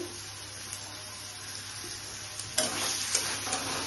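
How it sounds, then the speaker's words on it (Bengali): Ground coriander, cumin and turmeric sizzle in hot oil in a pan for a paneer curry, with soft scraping strokes of stirring and a brighter burst of sizzle partway through. "ধনিয়া গুঁড়া দিচ্ছি, জিরা গুঁড়া দিচ্ছি, হলুদের গুঁড়া দিচ্ছি।"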